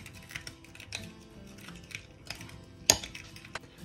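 Chinese cabbage salad dressed with regular and whole-grain mustard being stirred in a bowl, giving soft scraping and clinking taps with one sharper clink near the end, close and moderately quiet.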